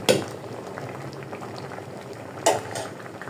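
Chitoi pitha simmering in a pot of liquid, a steady soft bubbling and low burble close by, with two brief louder clatters near the start and near the end.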